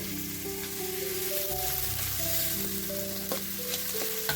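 Pangas fish sizzling steadily in hot oil in a pan, a close, continuous frying crackle with a few scrapes and light knocks from stirring, no talking.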